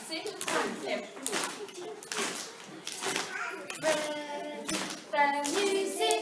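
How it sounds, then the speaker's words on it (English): Young reception-class children tap their hands in rhythm during a school music performance, a series of soft, even taps mixed with singing and voices in a lively classroom. "Have you brought your tapping hands?"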